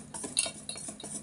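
A utensil clinks and scrapes against a bowl as dhokla batter is beaten briskly, a quick run of close, light taps and scrapes over a short moment.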